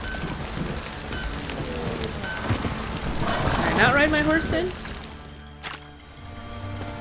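Rain falls steadily in The Witcher 3 game, a continuous wash of patter on surfaces with horse hooves faintly underneath, while someone talks over it.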